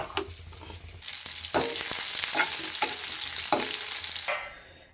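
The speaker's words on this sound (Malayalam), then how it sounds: "ഇനി ഇതിനകത്ത് നമുക്ക് ഉള്ളിയും കടുകും ഒറ്റമുളകൊക്കെ വറുത്തിടാം" Onion, mustard seeds and dried chili frying in hot oil in a pan, a steady close sizzle with bursts of crackling and stirring clatter, fading out abruptly at the end.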